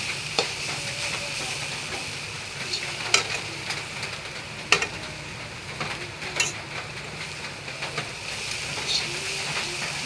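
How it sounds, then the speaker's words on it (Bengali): Rice-flour pitha fries in a pan until reddish, giving a steady close sizzle broken by occasional scrapes and knocks of stirring, with no talking. "আর আমি একটু লাল লাল করে ভেজেছি।"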